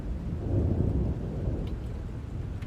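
Heavy rain pours down steadily with deep rumbling thunder rolling underneath, loud and enveloping throughout, during a stormy night scene in a Tagalog horror audio drama.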